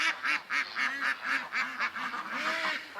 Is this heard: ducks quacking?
yes